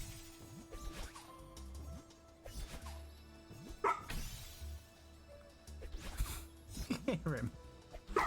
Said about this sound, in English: His pathetic little cry barks.